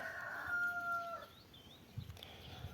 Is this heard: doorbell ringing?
no